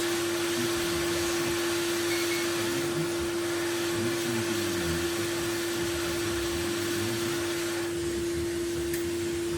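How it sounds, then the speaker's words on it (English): A hot air rework station set to about 340 degrees blows steadily onto an Acer Aspire 5552 laptop motherboard, giving a constant, even whooshing hiss with a low hum throughout, close and alone. "We're up to about 340 degrees on my hot air station, which is really hot enough."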